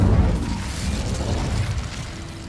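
A fiery spell burst in a wizarding video game, a short loud whoosh-boom with low rumbling that fades into a sustained crackling hiss over about two and a half seconds, no talk.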